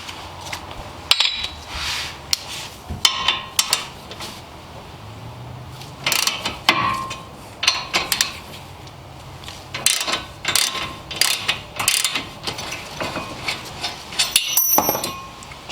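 A ratchet with a 17 mm socket clicks as it loosens brake caliper bracket bolts on a 2010–2015 Hyundai Elantra, giving repeated close bursts of ratcheting with metallic clinks between strokes and no talk.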